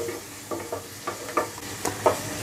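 Soft sizzling in a pan as tomatoes and onions sauté for channa masala, broken by a few light scraping stirs at an uneven pace.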